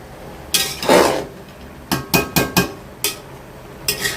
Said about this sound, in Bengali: তো নাড়াচাড়া দিয়ে দিলাম